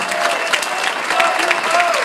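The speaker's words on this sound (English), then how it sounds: "keep those hands clapping nice and loud, ladies and gentlemen. A big round of applause." Wedding reception guests applaud loudly and steadily, a dense continuous wash of clapping from a nearby crowd with no pause.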